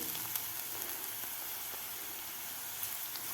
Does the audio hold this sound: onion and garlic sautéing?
yes